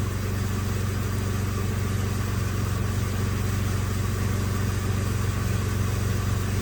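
A 2007 Mitsubishi Outlander engine idles below 1,000 rpm during an evap leak test, giving a steady, close, unbroken low hum and rumble with no talking.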